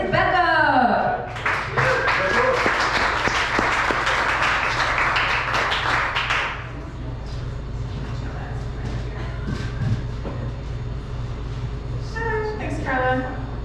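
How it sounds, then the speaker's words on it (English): An audience at a downtown stand-up comedy show breaks into a burst of applause that lasts several seconds and then fades. The host speaks just before it, and quiet talk and room noise continue after it. "Give a warm round of applause."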